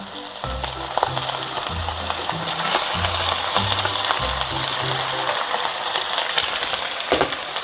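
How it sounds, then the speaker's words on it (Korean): Onion and green onion stir-frying in a pan for japchae, a loud steady sizzle and crackle with repeated scraping strokes of stirring, close up and without talking. "양파랑 대파가 향이 좀 날 수 있도록 볶아주세요."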